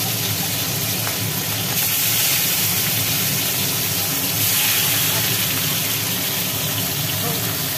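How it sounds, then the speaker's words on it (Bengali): Rohu fish frying in a pan of hot, smoking oil gives a loud, steady hiss and sizzle that runs through the whole stretch without a break, close and continuous. "রুই মাছ ভাজা হচ্ছে।"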